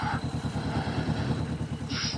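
A 2021 Kawasaki Vulcan S 650 motorcycle engine runs during a ride, a steady loud low rumble with rhythmic pulsing and wind noise throughout.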